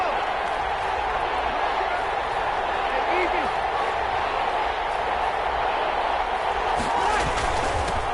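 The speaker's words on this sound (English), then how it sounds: "Here comes a big one as this crowd gets up making some noise." A football video game on PS4 carries a steady, dense stadium crowd roar that holds throughout, with the crowd noise swelling slightly as fans get up.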